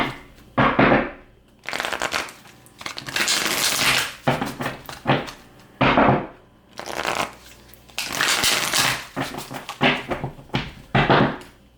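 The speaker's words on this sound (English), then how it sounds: "a little bit of a shuffle here. Get them all nice and shuffled about." A deck of cards is shuffled several times in close, crisp bursts of riffling, separated by short pauses and soft handling thumps.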